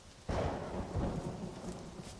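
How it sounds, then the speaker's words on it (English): Thunderstorm with rain sweeping past a window, a heavy rumble of thunder erupting suddenly and rolling on over a steady wash of rain and wind, loud and close. "The storm was raging past my window now."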